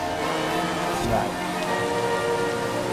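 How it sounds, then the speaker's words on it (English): Steady rain pattering in the Forza Horizon 4 racing game, a loud continuous wash of drops on surfaces filling the whole stretch with no gaps. "Oh, it's actually started raining."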